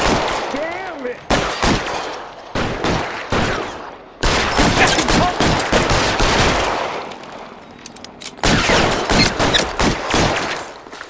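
A gunfight in the L.A. Noire video game, with loud bursts of rapid gunfire in several clustered volleys separated by brief gaps, close and dominant throughout.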